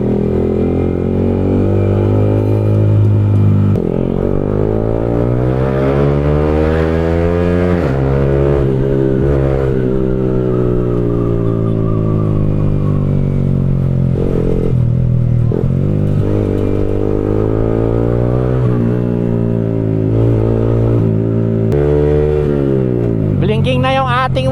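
A motorcycle rides along a road, its loud, close engine droning steadily and repeatedly rising in pitch through gear changes and accelerations for the whole stretch.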